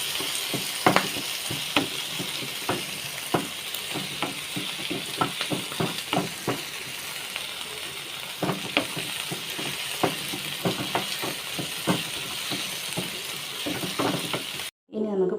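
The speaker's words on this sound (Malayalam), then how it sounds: "എന്നിട്ട് നല്ലപോലെ ഒന്ന് വഴറ്റിയെടുക്കുക." Strained tomato sautés in a hot pan for a mango rasam, a continuous sizzle broken by regular stirring clinks and scrapes of a spoon against the pan.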